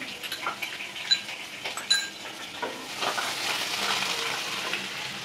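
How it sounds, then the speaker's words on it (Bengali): Ginger tipped into hot ghee for a mango pulao, giving a steady close sizzle of frying with a few sharper crackles and spatters near the start, no voices. "এই ঘিটা গরম হয়ে গেছে, এখন আমি আদাটা দেবো পুরোটা।"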